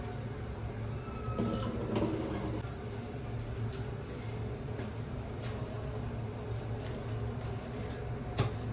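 Something is washed under a running kitchen tap during meal preparation: a steady, soft hiss of flowing water with brief splashes and clinks, moderately close and with no talk.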